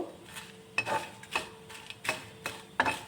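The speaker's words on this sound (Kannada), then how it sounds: "ಇದಕ್ಕೆ ಎಣ್ಣೆ ಏನು ಹಾಕೋಬಾರ್ದು ಹಾಗೆಯೇ ಹುರ್ಕೊಳ್ತಾ ಇದ್ದೀನಿ ಸ್ವಲ್ಪ ಚೆನ್ನಾಗಿ ಫ್ರೈ ಮಾಡ್ಕೋಬೇಕು" Red chillies are dry-roasted in a pan without oil, heard as a series of close clinks and scrapes of a utensil stirring against the metal pan, about five distinct strokes over a faint background.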